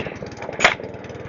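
A Webb lawn mower with a carburettor fault idles in a rough, rapid chugging pulse up close, and a single sharp knock cuts through partway.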